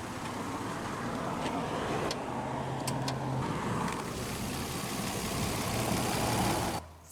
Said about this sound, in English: The heart of the Xterra is Nissan's VQ40DE 4-liter naturally aspirated V6 engine